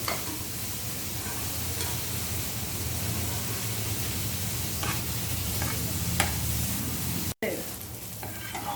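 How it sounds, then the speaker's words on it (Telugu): Onions fry in a pan for dum aloo curry, a loud, continuous hissing sizzle with faint stirring scrapes on top and one brief cutout near the end, with no one talking. "కొంచెం ఆనియన్స్ కొంచెం బాగా వేగనివ్వాలి ఎర్రగా."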